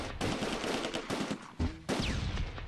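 Machine gun fire in the WWII strategy game Close Combat II at Arnhem: long bursts of rapid automatic shots crackling loudly, broken by a short pause, then resuming with mixed battlefield noise.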